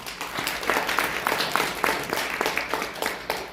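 Attendees at an association's general meeting applaud to approve a board member's appointment. The clapping is moderate and steady for several seconds, with some individual claps standing out.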